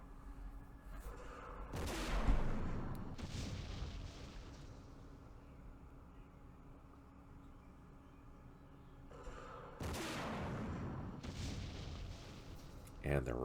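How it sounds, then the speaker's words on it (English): Recoilless rifle shots and blasts in the Vietnam war video game Campaign Series Vietnam, set at Khe Sanh village in 1968: two separate booming bursts, each trailing off slowly, with a quieter stretch between them. "And their recoilless rifle missed"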